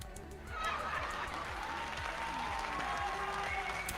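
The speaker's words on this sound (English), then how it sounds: "The crowd went wild." Steady crowd applause plays as a sound effect, a dense wash of clapping that swells in after a moment and holds at a constant level throughout.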